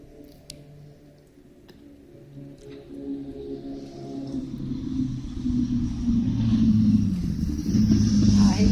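Cars drive past on a road in the quiet early morning, a low rumble that builds steadily as vehicles approach and pass, with a few faint ticks early on and no talking.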